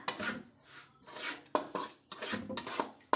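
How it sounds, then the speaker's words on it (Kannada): Semolina roasts in ghee in a pan while a spoon stirs it, making rhythmic scraping sweeps broken by a few sharp taps against the pan, close and fairly quiet. "ರವೆನ ಚೆನ್ನಾಗಿ ಹುರಿಬೇಕು ಒಂದು ಹತ್ತು ನಿಮಿಷ"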